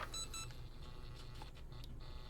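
Short electronic beeps from a brushless ESC during throttle calibration on a 17-inch mini Dom boat with an OM 50A controller and 2835 3300kv motor, a few tones in quick succession over a steady low hum.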